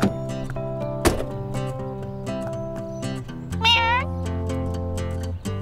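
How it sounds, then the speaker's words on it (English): A cartoon cat in a Postman Pat episode gives a rising meow over steady music and background tones, with a knock and a door-like thunk nearby; no one speaks. "Extra special, special delivery cat."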